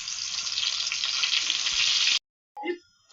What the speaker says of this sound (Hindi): अभी देखिए ज़रा सा ऑयल डाल के हमने इन टिंडों को करना है फ्राई